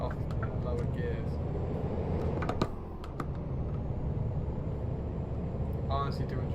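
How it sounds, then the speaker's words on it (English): Truck engine in Euro Truck Simulator 2 revving in lower gears, a steady low droning rumble that holds fairly even throughout, with scattered clicks and someone talking over it. "You can really hear when I rev it off in lower gears."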